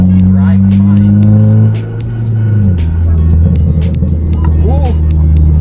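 A tuned Mitsubishi Evo X with a turbo-back straight pipe exhaust drones loudly nearby, its engine pitch holding, dropping off, then climbing again, with brief voices mixed in.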